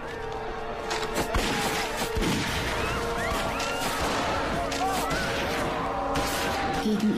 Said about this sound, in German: Die Schweizer Garde eröffnete gnadenlos das Feuer auf uns.